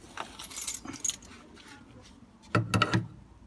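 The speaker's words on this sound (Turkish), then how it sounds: "anahtarımızı takacağız." A key is pushed into a newly fitted door lock cylinder, giving faint, close metallic jangles and clicks in short bursts, with a louder cluster of scraping clicks near the end.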